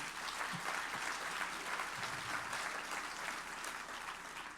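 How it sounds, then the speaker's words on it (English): Audience at a county's annual State of the County address breaks into steady, full-room applause that continues evenly throughout, heard fairly faint and without any speech. "They deserve a round of applause, too."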